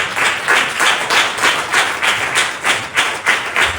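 Congregation at a Hindi Christian sermon claps in a steady rhythmic beat, loud and close, about eight even pulses with no talking.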